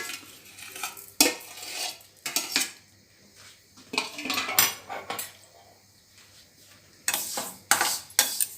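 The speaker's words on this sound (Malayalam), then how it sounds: "ഈ എള്ള് നമുക്കൊന്ന് വറുത്തെടുക്കാം." Sesame seeds dry-roasting in a hot pan for sesame candy balls, stirred with a metal spoon: irregular bursts of close scraping and clinking against the pan, with quieter gaps between strokes.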